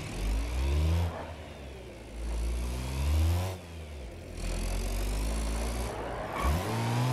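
A Wigeon car in BeamNG.drive, a slow base version with 32 brake horsepower, revs and accelerates through three rising engine pulls with gear changes. The engine hums loudly and steadily and no one speaks.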